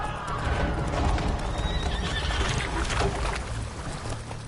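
Roach, the horse from The Witcher 3, whinnies and gallops at speed, hooves pounding under a loud, dense wash of in-game ambience with water-like splashing.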